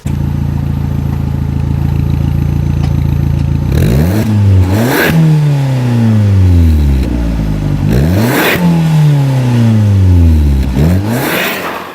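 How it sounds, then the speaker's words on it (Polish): A car engine idles, then is revved hard three times, each roar climbing sharply in pitch before dropping back down; loud and close. "posłuchajcie jeszcze dźwięku silnika"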